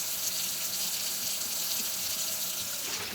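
Steady broadband rush of water running from a tap into a sink, continuous and fairly close for the whole stretch, with no voices.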